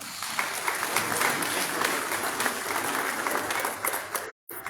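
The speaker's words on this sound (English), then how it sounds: "It's very suffocating the round of applause." A warm round of applause at the Nigerian Army end-of-year dinner party: dense, continuous clapping from a large crowd that fills the room for several seconds before cutting off abruptly.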